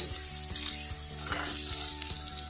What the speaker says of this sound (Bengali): আলুটা একটু ফ্রাই করে নেব